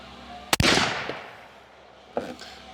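A .300 Weatherby Magnum rifle fires a single loud, sharp shot close by outdoors, followed by a brief rolling echo and a fainter later report.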